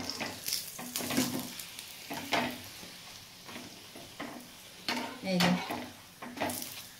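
An egg paratha fries in oil in a pan, with soft sizzling broken by repeated stirring and scraping clatter of utensil against the pan, close and fairly quiet, no talking.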